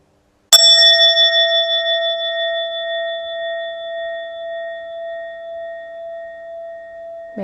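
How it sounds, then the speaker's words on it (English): A single meditation bell struck once, a bright ring that sustains and slowly fades with a gentle wavering shimmer, alone in otherwise silent surroundings. "May the sound of this bell go far and wide and touch all of our hearts."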